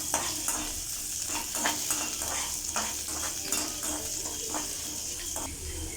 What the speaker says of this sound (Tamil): இது எல்லாத்தையும் சேர்த்து ஒரு வாட்டி நல்லா கிண்டி விட்டுக்கோங்க.